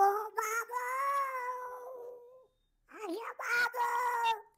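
A mimicry artist from Latur uses his voice to imitate a tomcat meowing: a long, wavering, drawn-out yowl, a short pause, then a second rising and falling meow, close and fairly loud.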